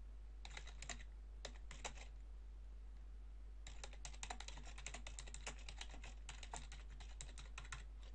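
Fingers type a post title on a computer keyboard, rapid close clicking in bursts with a short pause midway, quiet over a low constant hum.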